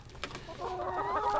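Backyard hens clucking in a coop where the first eggs have appeared, a low rising chorus of fowl calls that grows louder and steadier after a quieter, scratchy start, close to the listener with no talking.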